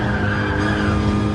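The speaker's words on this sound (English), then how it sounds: "it's running out of revs in 6th gear" A race car in GT Sport on the Nürburgring holds a steady, strained engine drone at the rev limiter in sixth gear, loud and continuous with no pauses.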